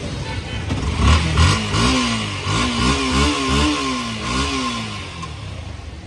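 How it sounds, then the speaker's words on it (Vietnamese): A 2015 Yamaha FZS V2 motorcycle engine is revved up and down several times, loud and close, its pitch rising and falling in repeated surges over a steady idle. "Nẹt bô cái."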